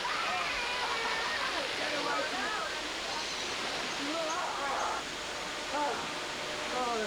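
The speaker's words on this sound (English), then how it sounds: "gives us a few minutes to cool off in a waterfall" A waterfall on the Kokoda trail, a steady, loud, broadband rush of falling water that continues throughout, with faint voices mixed in beneath it.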